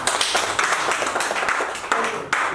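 A classroom of students claps together in a short, loud burst of uneven, overlapping hand claps with a few sharper accents, lasting a couple of seconds.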